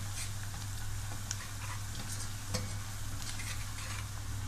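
Dried coriander stirred into onions frying in a pan, a steady close sizzle with a few soft scraping and tapping touches of the spoon, no talking.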